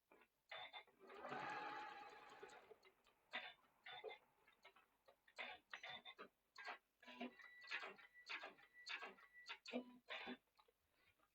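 A home sewing machine briefly whirs while stitching a foundation paper pieced quilt block, a short faint run followed by quiet talking and light ticking handling sounds.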